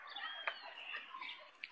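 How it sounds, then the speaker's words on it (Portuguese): A pet bird, Felipe's, chirps in a series of quick, bright high-pitched tweets with small sharp calls, close by and fairly quiet, with no talking. "Esse é o pássaro."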